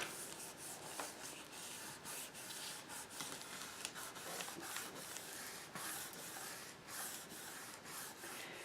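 Steady, quiet rubbing of finish into the wood of an old cabinet door, a continuous dry brushing friction with small irregular scuffs, close up and without speech.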